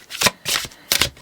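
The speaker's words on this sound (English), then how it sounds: "Please show us the cards." Tarot cards riffled in three quick bursts, each a crisp papery flutter close to the microphone, separated by short pauses, with no talking.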